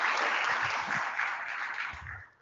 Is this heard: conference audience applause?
yes